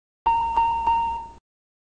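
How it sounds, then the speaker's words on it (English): Embraer E175 cockpit triple chime alert tone: three bright, evenly spaced electronic chimes ringing into one another, then cutting off cleanly, loud and close with no talking. "and the triple chime"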